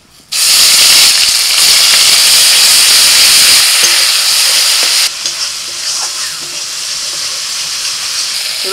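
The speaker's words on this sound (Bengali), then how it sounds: "একটু ভালো করে মিশিয়ে নিয়ে তেলের মধ্যে দিয়ে দিচ্ছি।" Spice paste of turmeric, Kashmiri chilli and coriander powder hitting hot oil, a sudden loud, close hiss that holds steady, then settles to a softer crackling sizzle partway through.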